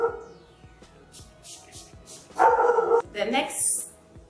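A pet dog barks and yips in several sharp bursts close by, loudest in a cluster near the end, while someone talks over it indoors.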